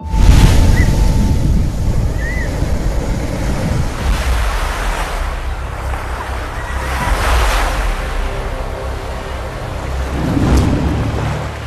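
Arabian Sea waves surge and wash in broad, rolling swells, with wind buffeting the microphone and a faint hint of a boat moving through the water.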